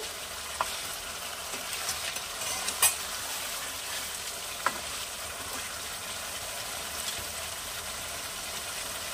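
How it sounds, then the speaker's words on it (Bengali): Bengali boal fish curry is stirred in the pan after a pinch of sugar is added: a quiet, steady simmering sizzle with a few faint scraping clicks from the spoon. "একটু নাড়াচাড়া করে নেব চিনিটা দেওয়ার পরে"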